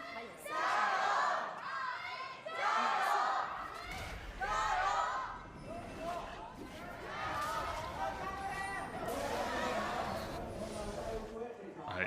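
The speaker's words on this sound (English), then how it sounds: "It feels fantastic to have a live audience in, to be able to hear the crowd cheering for the players" A live arena crowd at a 2021 LPL Spring Split esports match in China cheers and shouts in loud swelling waves that rise and fall across the stretch.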